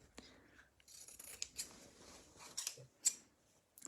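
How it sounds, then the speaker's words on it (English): Scissors snip and rub faintly at close range while trimming uneven fabric edges on a sewn drawstring bag seam, a few soft cuts spread over a few seconds in a quiet room. "now is a good time just to trim them down"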